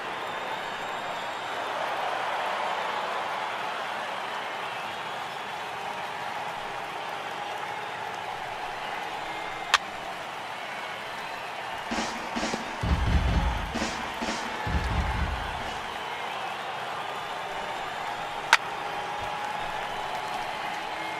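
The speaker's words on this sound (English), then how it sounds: "the home crowd seems a little restless" A restless home crowd murmurs in a franchise-mode baseball video game, a low steady hum of distant crowd noise, broken midway by a few louder bursts of thumps and clapping.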